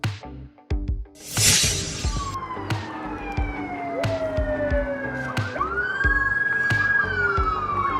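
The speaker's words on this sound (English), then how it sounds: "Police car." A police siren wails, its pitch sweeping down then jumping up, loud and close, after a brief crash at the start, with clattering in between.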